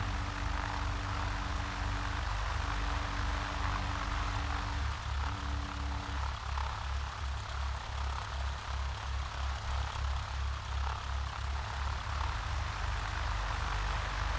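Small propeller bush plane taking off from Skykomish State Airport, its engine a steady, loud drone with a low pulsing throb throughout and no talk.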